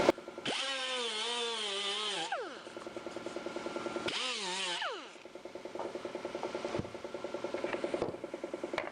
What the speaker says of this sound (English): I can grind those out a little bit and blend that in.